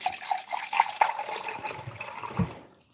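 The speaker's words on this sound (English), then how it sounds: "we'll do the rest of it with just water" Plain water poured into a cup while making a kale smoothie, a steady splashing pour with a few gurgling bursts, heard close and alone over about three seconds before fading out.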